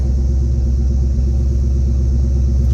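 A 1967 Chevrolet Chevelle 396 convertible idles with a loud, deep, steady rumble and a throbbing low pulse. It sounds close and even throughout, with no talk over it.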